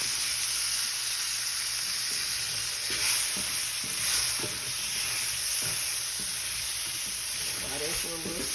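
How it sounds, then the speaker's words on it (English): Garlic fries with charred tomatoes in a pan: a bright, constant sizzle with repeated stirring scrapes and clicks, close but moderate in level. "So I'm gonna I'm gonna go ahead and take my garlic and add all that up in there. Just gonna fry this for a second."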